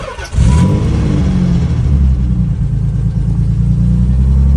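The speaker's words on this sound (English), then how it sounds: "you grab your key, put it in, make sure your car is in neutral, pull the clutch all the way down" A 1990 Nissan 300ZX engine cranks and catches, then settles into a loud, close, steady idle with a deep rumble and slight rises in revs, with no voices.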